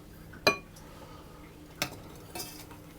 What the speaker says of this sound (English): it's simply a question of heating it and stirring it until it's melted